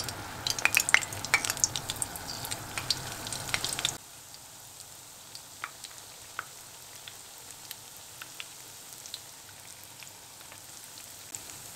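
Börek pastries frying in hot oil in a pan, a soft crackling sizzle that is busier and louder for the first few seconds, then settles into a quieter, steady patter of small pops.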